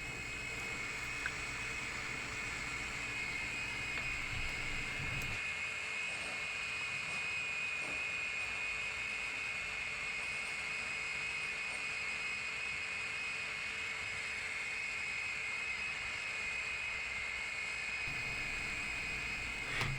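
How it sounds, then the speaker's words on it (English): An electric oil change pump runs steadily, draining engine oil from a 1994 Toyota, with a continuous whining mechanical drone and a high tonal hum that holds for the whole stretch, its low rumble dropping away partway through. "You don't want to let your pump run longer than, I think it's 15 minutes."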